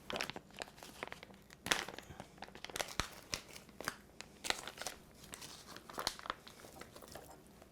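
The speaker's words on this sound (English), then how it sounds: "I'm going to take the jackfruit and open it up. It comes in this pouch." A plastic pouch of jackfruit being torn open and handled, giving a string of crinkling and ripping crackles with several sharp peaks, close and fairly quiet, with no talking.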